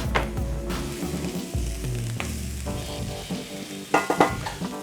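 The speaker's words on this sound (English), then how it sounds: "That sizzling is just from the extra water from when we were rinsing it" Rinsed rice grains toasting in a hot pan, leftover rinse water crackling into a loud, busy sizzle with occasional sharper bursts as the rice is stirred.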